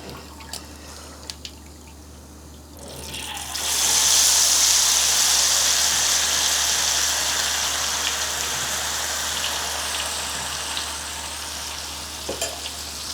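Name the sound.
frying food in hot oil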